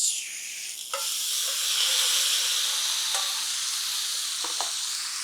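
Tomatoes slide into piping hot oil and sizzle, a loud, steady bright hiss that swells and holds, with a few clinks of utensils, while cooking swordfish paccheri.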